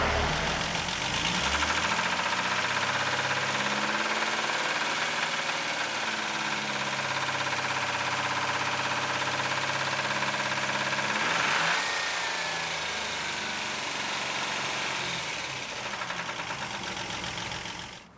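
Ford Granada 2.8i engine revving at raised RPM during ignition troubleshooting, a steady loud mechanical drone with no speech, pitch shifting slightly as engine speed climbs and settles.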